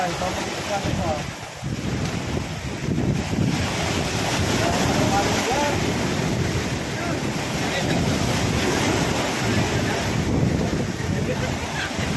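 Waves wash around a small boat out at sea on a fishing trip, a steady rushing surge mixed with heavy wind buffeting the microphone, continuous and loud throughout.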